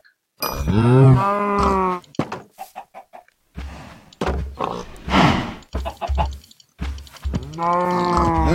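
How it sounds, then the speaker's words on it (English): Cows in a video game farm moo loudly several times in long drawn-out calls, with short clunky game sounds in the gaps between them. "Now let's breed the cows."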